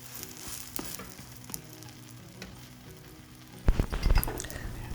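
Okra dosa cooking in oil on a covered pan over a low flame, giving a soft continuous sizzle and crackle, followed near the end by a louder burst of clattering and sizzling close by.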